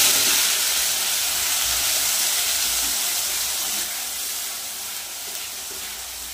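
A spice paste hits hot oil already seasoned with black cumin, producing a loud, continuous sizzling hiss that gradually softens as the frying settles, with no talk over it.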